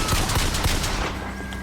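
Pistol fire in BioShock Infinite, a few quick sharp shots in succession followed by fading reverberant tail.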